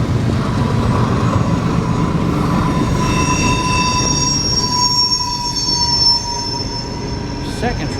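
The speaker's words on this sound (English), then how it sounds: "Second trash train row, it's empty." An empty trash train rolls along the rails with a steady low rumble, and sustained high wheel squeals ring out over it, with a brief faint voice near the end.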